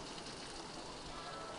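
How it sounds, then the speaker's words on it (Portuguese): Rain pours steadily onto a flooded street, a dense even hiss of drops striking water and pavement, continuous and fairly soft with no voices. "Olha a chuva. A rua tá alagada."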